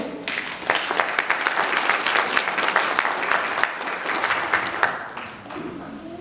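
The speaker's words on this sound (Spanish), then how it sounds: "Démosle un fuerte aplauso, por favor" A conference audience at a Cuauhtémoc borough event applauds loudly and steadily for about five seconds, the dense clapping tapering off near the end.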